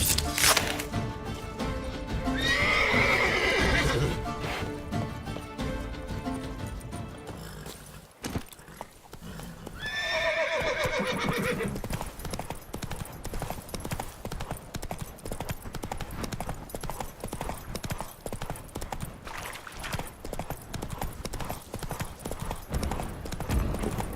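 Horse galloping in The Witcher 3: Blood and Wine, steady clip-clop of hooves running throughout over game sound, with two bright neighs early on.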